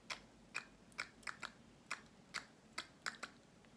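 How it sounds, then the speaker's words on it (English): Sharp tongue clicks, used to call goats across a bridge, tap out in an irregular rhythm about eleven times in under four seconds, quiet and close with no voice. "I like to make a clicking sound with my tongue like this"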